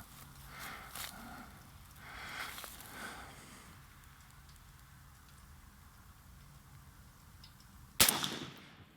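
A gunshot fired at a target rings out once near the end, a single sharp, loud crack after several seconds of quiet outdoor ambience.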